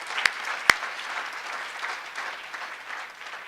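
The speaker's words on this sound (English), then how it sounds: "Give your big applause to all of the student winners this evening." Audience applause for student art winners at an evening board meeting, a steady wash of clapping from a crowd with a couple of sharp, loud claps standing out near the start.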